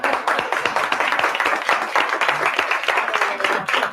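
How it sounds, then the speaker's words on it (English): Audience applause following a speaker's call for a strong round of applause, dense steady clapping from many hands, loud and continuous throughout. "give yourselves a very strong round of applause."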